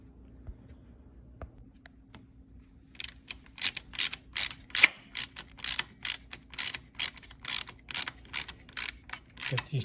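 A hand ratchet tightens bolts on a Kawasaki ZX6R engine during cam tension and valve adjustment, close rapid clicking in quick bursts after a quiet start, with no talking.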